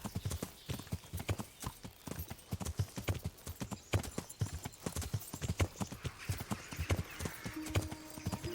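Horse hooves clip-clop in a steady, brisk rhythm in the medieval video game Kingdom Come: Deliverance, close and fairly loud with no talk over them.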